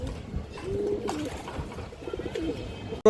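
Domestic pigeons of fancy breeds such as satin, gorra, kaldom and high flyers coo in a steady, low, throaty run close by, with a sharp click at the very end.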